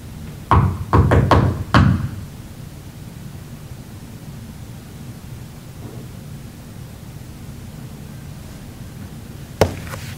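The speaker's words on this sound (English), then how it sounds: "You can faintly hear the first knock on the video" Knocks in the Montour County Court House at night, a quick cluster of four sharp raps near the start and one more isolated knock near the end, heard over a steady low hum with no talk.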